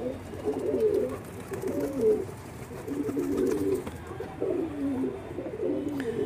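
A pigeon on a rooftop coos in repeated low, throaty phrases about every second and a half, close and clear over light background noise.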